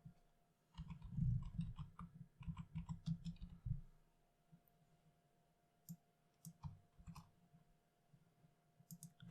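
Someone types on a computer keyboard with a quick run of crisp, close keystrokes, then a few scattered single clicks after a pause.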